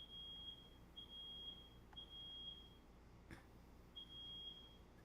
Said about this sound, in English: They don't know how to turn off the fire alarm.